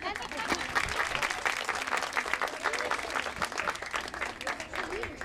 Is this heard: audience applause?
yes